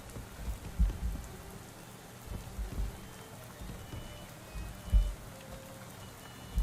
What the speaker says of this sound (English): Why is it raining here and nowhere else?